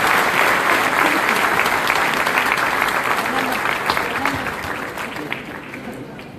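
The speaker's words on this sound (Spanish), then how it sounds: "Demos un fuerte aplauso al presbítero Armando González Escoto" An audience at a lecture on the history of the first Mass applauds to welcome a priest to the podium. The loud, dense clapping gradually fades over several seconds, with faint voices underneath.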